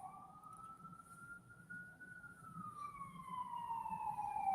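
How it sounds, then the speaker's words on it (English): A distant ambulance siren wails in the background, rising and falling in long sweeps and drawing slightly nearer toward the end, over a low, quiet room hum. "And we have the ambulance sirens in the background."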